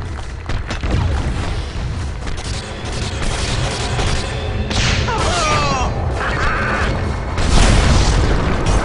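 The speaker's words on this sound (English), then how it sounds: "Dire's middle tower has fallen." A tower collapsing in Dota 2, heard as a sustained series of heavy booms and crashing impacts over several seconds, loud and dense, with game effects layered on top and a stronger burst toward the end.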